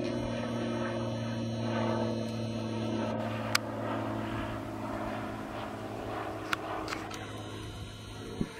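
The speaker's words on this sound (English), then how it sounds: "There's an airplane." A distant airplane passes overhead with a steady, low droning hum that holds throughout, joined by a few faint clicks and no voices.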